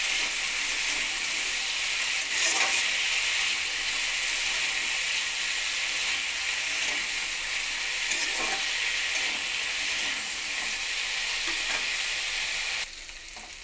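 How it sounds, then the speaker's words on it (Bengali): Potatoes fry in hot oil tempered with whole cumin and dried red chilli for a potato-aubergine fry, giving a steady, close sizzle throughout with faint stirring scrapes now and then. "আলুটা হালকা করে ভেজে নেবো।"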